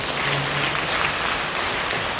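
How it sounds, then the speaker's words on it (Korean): Steady applause from a church congregation at a New Year blessing service in Incheon, a dense wash of clapping filling the room evenly from start to finish with no voices over it. "하나님께 감사의 박수를 드립니다."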